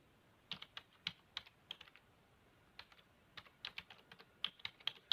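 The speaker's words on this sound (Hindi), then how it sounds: "जैसे टाइप किया मैंने" Keys clatter on a computer keyboard in short irregular bursts of taps, close and fairly quiet, with no voices over them.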